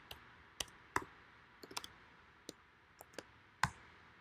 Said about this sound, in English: Just going to type in my credentials